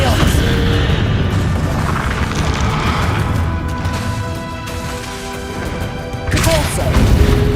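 Casting the Expelliarmus spell in the Hogwarts Legacy video game brings a loud, dense magical blast with booming impacts and a rising shimmer that keeps rumbling for several seconds, heavy and continuous.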